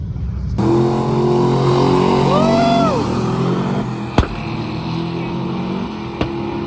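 A Ford Fairlane drag race car makes a pass down the strip, its engine a loud, sustained roar whose pitch sweeps up and then settles, followed by a couple of sharp clicks.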